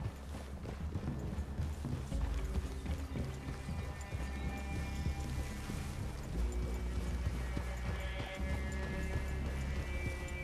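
Steady clip-clop of horse hooves on the move in the video game Red Dead Redemption 2, continuous and fairly close, with a mechanical background hum and no talking.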